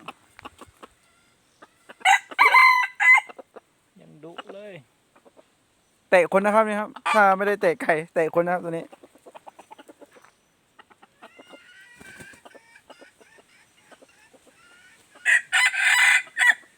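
A red junglefowl rooster crows loudly several times, with clucking between, while someone talks nearby.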